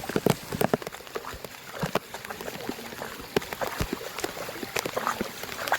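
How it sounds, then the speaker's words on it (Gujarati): Rain falls steadily on a knee-deep flooded street, with close irregular splashing and dripping and a constant wet hiss. "હજી તો વરસાદ મિત્રો ચાલુ જ છે"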